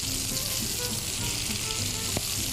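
Chillies sizzle and fry with ginger and garlic in an iron pot, a steady dense crackle close up with an occasional stir or clink.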